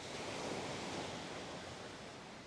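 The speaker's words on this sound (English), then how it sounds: "the sound of the waves" Steady ocean surf washing along a Dominican shore, a continuous broadband roar that stays even and close throughout, with no voices.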